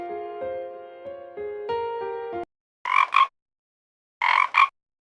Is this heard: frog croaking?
yes